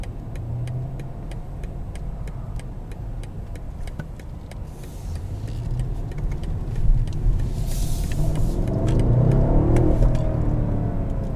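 A 2021 BMW 750i M Sport accelerates hard, heard from inside the cabin as a low, steady engine drone that builds and deepens toward the end, with faint rhythmic ticking throughout.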